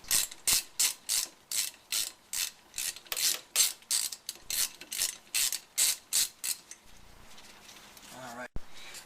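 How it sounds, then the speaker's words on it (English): Ratchet wrench with a 5/16 socket backing out screws on top of a blower, a long run of rapid clicking bursts in a steady rhythm, close and fairly loud, ending with a brief pause and a sharp knock. "take the 3 screws out on top using a 5/16"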